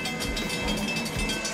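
A train approaching a railroad crossing rumbles steadily along the track nearby, a continuous loud roar with faint rhythmic rail noise.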